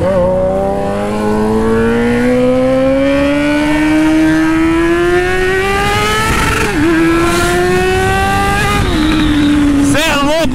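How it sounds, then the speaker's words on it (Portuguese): Carbureted Honda Hornet motorcycle engine screams loud and close on a trail ride, pitch climbing steadily through a long pull, briefly dropping at shifts, then rising again, with a voice speaking over it. "Hornet carburada, mano, grita muito, muito, muito lindo."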